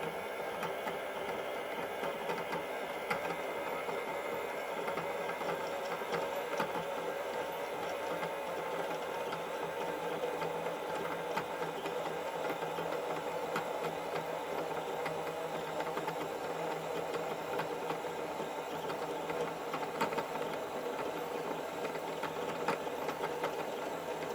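A Qnique 19 quilting machine winds a bobbin with a steady mechanical whir and hum that runs evenly and continuously at close range, with no speech over it.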